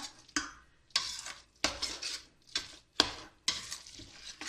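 A utensil scrapes and stirs a thick meat pudding mixture bound with egg in a microwave dish in repeated strokes, each starting with a soft clack, fairly close and otherwise quiet.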